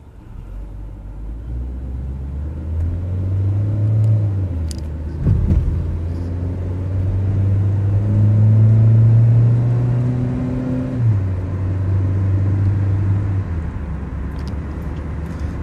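A 2003 Mitsubishi Lancer on a test drive, its engine giving a steady low rumble that rises and falls with gentle acceleration, close and continuous, with road noise and no speech.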